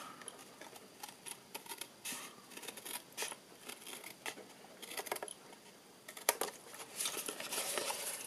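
Scissors snipping paper for a gift tag box, with quick, light, close snips and rustling paper repeated through a quiet room.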